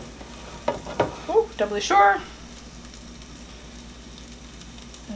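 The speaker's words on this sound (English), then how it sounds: "So, they are sizzling." Pork chops sizzle in an air fryer with a steady frying hiss, while a few short bursts of speech rise briefly over it before the sizzle carries on alone.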